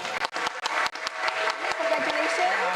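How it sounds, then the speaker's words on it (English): Wedding guests at a solemnisation applaud the newlyweds with a burst of scattered claps at the start, then voices talking and cheering take over as the clapping continues underneath. "your heartiest applause for the newlyweds"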